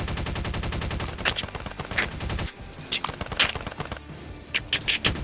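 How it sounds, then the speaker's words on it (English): Heavy automatic gunfire rattles in rapid, sustained bursts during a squad firefight in the video game Wasted Crater, followed by scattered sharper shots and pauses. The bursts are loud and dense, with some impacts layered over them. "Fill the air with ammo."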